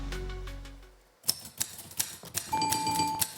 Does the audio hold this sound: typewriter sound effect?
yes